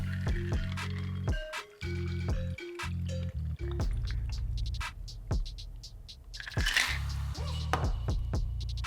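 A Hurricane cocktail poured from a shaker into a Hurricane glass filled with ice, with close trickling and dripping liquid and light ice clinks over background music.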